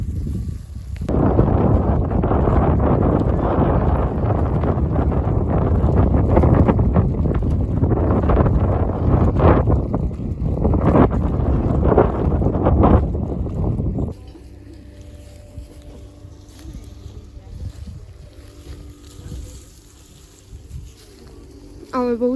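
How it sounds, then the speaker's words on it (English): A boat pulls away near the Uros floating islands of Puno, its engine rumbling loudly through wind buffeting the microphone, then dropping to a quieter, steadier drone. "Our boat is leaving."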